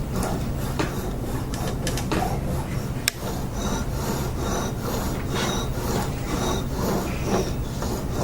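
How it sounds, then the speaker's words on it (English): Fingerprint ink being spread evenly across an inking board, a close, soft, rhythmic rubbing and rolling with a single sharp tick partway through. "You spread it evenly as you're doing it so that it's a light touch."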